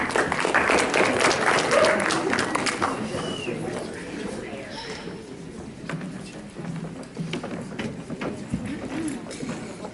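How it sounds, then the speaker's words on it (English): Audience applause at a student council election debate, fairly loud clapping that swells in the first few seconds then fades into scattered claps and room noise, with some voices in the background. "Let's give a big round of applause for all of our two blocks"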